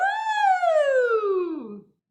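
A singer's voice imitates a siren in one smooth vocal glide, holding high briefly and then sliding steadily down to a low pitch over about two seconds before fading out.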